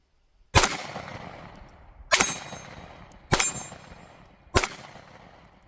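Rifle fire at a target range: four sharp, loud shots spaced about a second apart, each a hard crack followed by a short ringing decay, with quiet between them.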